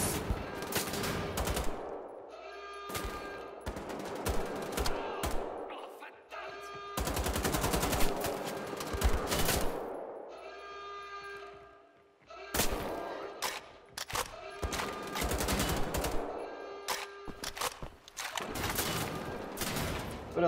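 Shotgun gunfire in the video game Wolfenstein The Old Blood, loud repeated blasts in dense bursts with short pauses between volleys, under busy game effects.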